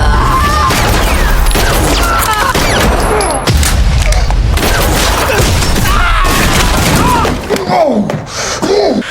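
Loud, rapid gunfire crackles through a film action scene, bursts of shots and booms packed closely together with hardly a pause.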